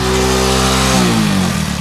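A motorcycle engine runs loud and close just after being started, a steady buzzing drone whose pitch slides down as the revs drop, with no voices.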